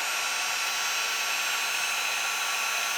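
Handheld craft heat tool warming up before melting embossing powder, a steady even blower hiss with a faint whine, close and constant throughout with no talk.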